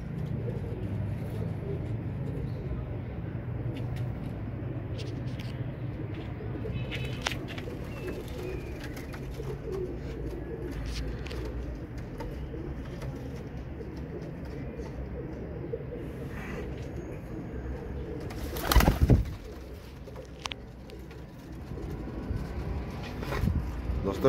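Rampuri pigeons coo softly and steadily against a low murmur of outdoor background noise, with a brief loud bump near the end.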